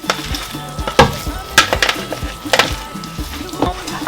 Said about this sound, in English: So I'll be adding this in a pot.